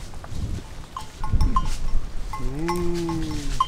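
A cow in India lets out one drawn-out moo near the end, after scattered knocks and bell-like clinks against a noisy outdoor background.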